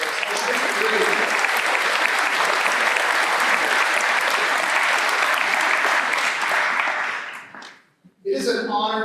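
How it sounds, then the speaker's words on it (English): Audience at a class day ceremony breaks into loud, sustained applause that fills the hall and then fades out abruptly near the end, followed by a brief resumption of sound. "Let's give them one more round of applause."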